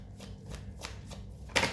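A deck of tarot cards is shuffled by hand during a Hindi reading, quick soft riffling flutters followed by a sharper snap as the cards settle, close and quiet.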